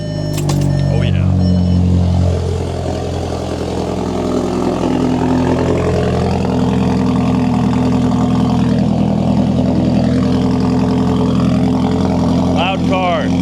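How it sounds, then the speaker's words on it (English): Volkswagen GLI sedan engine running loudly with a steady low rumble throughout, close by, rising briefly as if revved, with faint jangling and voices underneath. "Loud car."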